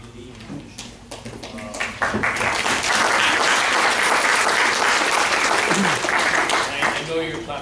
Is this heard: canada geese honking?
no